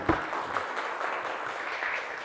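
A lecture audience claps in a short, moderately loud round of applause that opens with a sharp hit, then holds a steady patter from a room of listeners.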